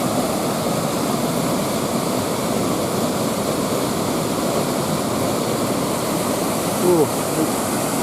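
A river runs shallow and low near Blairgowrie, its steady broadband rush of flowing water continuous and fairly loud throughout, with no voices over it.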